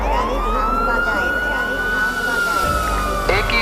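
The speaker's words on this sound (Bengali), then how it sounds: "তারা বুদ্ধি করে একটি পুলিশের গাড়ির সাউন্ড বাজায়" A police siren wails with a long rising and falling tone, loud and near, over a low engine rumble.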